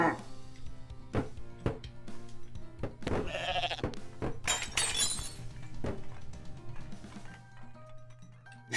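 Goat bleats in I Am Bread, with crashing, shattering glass and clattering thumps, the sounds coming at irregular intervals over a low hum.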